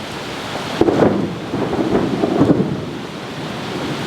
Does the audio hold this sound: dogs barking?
no